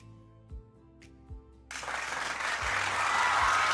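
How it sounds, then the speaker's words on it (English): Applause from the audience at a Malaysia Pro Wrestling New Breed 3 event swells into a steady, loud wash of clapping after a couple of low thumps, and it keeps building to the end. "Thank you for the applause."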